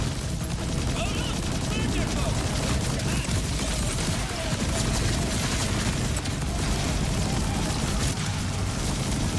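Dense, continuous Borderlands 4 gunfire roars without pause, with a voice talking over the steady barrage.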